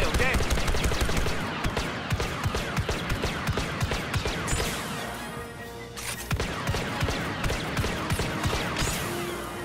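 Video game gunfire rattles in rapid automatic bursts, dense and close, with brief gaps between them and voices talking over the top.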